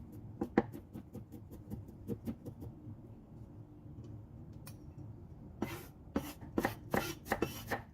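Knife coarsely chopping garlic on a board, a quick series of close taps, a pause, then a denser burst of louder chops.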